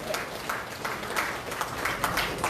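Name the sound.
applause at a party ceremony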